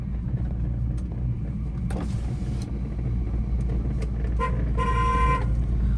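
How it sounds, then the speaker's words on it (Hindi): A car horn sounds in a narrow lane, a short toot followed by a longer sustained honk near the end, over steady engine and road rumble inside the car. "लॉन्ग हॉर्न प्रेस करो, कभी भी कोई भी इन गलियों से निकल सकता है"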